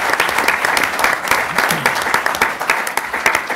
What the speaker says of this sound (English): a belated, but nevertheless very heartfelt applause